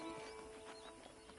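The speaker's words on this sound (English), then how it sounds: "I picked out a fine horse for you." Horse hooves clip-clop softly in the video game Red Dead Redemption, a faint, brief patter of steps with a possible light whinny, heard alone at low level.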